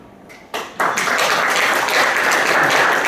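An audience at a lecture bursts into applause, the clapping swelling quickly from a few hands into a dense, steady round that carries on to the end.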